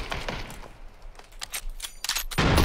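Gunfire rattles in the PUBG battle royale shooter on the Miramar desert map, a string of sharp close shots in uneven bursts that builds to denser firing at the end, with no talk.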